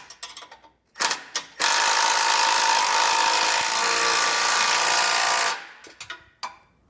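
A power tool drives bolts snug on an Invisible Base Plate Kit on a 2018 Chevrolet Colorado: a few short bursts, then one loud, steady run of about four seconds, then a few brief pulses.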